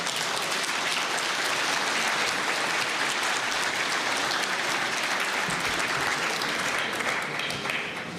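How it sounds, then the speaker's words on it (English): Sustained applause from a large conference audience at the Munich Security Conference welcoming a speaker, a dense, steady wash of clapping filling the whole stretch without letting up. "So with your applause, please welcome Secretary General Jens Stoltenberg."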